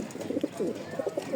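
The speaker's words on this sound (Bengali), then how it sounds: "বিদেশি কবুতর দেখাইতেছি আপনাদেরকে, মানে বিদেশি কবুতরের বাচ্চা, ওদের বাবা মা ডাইরেক্ট জার্মানির" Young pigeons bred from German imported parents coo softly and repeatedly at close range, a run of low throaty warbling calls against a quiet background.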